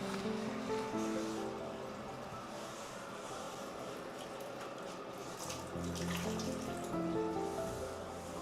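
Hot water runs steadily from a kitchen tap into a sink, a continuous close rushing splash at moderate level with a slight surge near the end, no talking.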